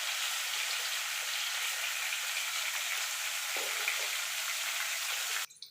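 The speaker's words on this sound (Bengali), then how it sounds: "আলুগুলো লাল লাল করে ভাজা হয়ে গেছে" Potatoes frying in oil make a steady, moderately quiet sizzle that runs unbroken for several seconds and then stops abruptly with a brief clatter at the end.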